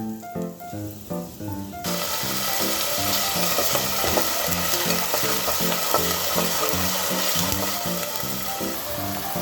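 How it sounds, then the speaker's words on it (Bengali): Whole garam masala spices hit hot oil for a beef head meat bhuna, giving a loud, steady sizzle that starts after about two seconds and continues beneath background music. "প্রথমে আমরা তেলে গরম মশলাগুলো ছেড়ে দিই"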